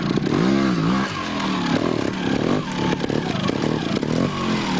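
A trials motorcycle at the 1995 Rhode Island round of the NATC National Moto-trials Championship climbs over a big rock section. The engine snarls and revs in bursts up close, with clattering and scraping from the rocks below.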